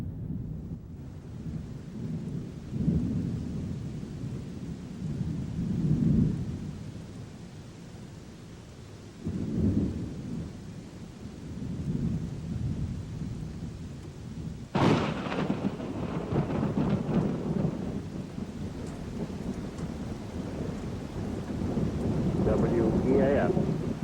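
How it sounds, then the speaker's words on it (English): Steady rain falls with rolling thunder, a low, heavy rumble that swells repeatedly and cracks sharply partway through, the rain a constant hiss throughout. "And then, it started to rain."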